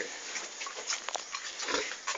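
A mother pig in a small backyard piggery, sow of nine piglets, makes rough snuffling grunts close by amid noisy pen sounds, with a couple of louder grunts near the end and no talking.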